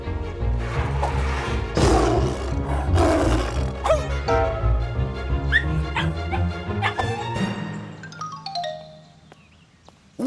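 A cartoon lion roars in several loud, rough bursts, mixed with barking-like cries and other lively cartoon sound effects, with no talking.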